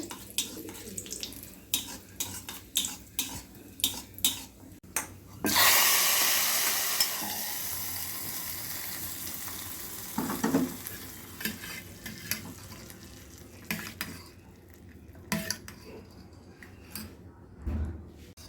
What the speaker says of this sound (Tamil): கொஞ்சமாக நெய் போட்டு இது முந்திரி வறுத்துக்கலாங்க பாயாசத்துக்கு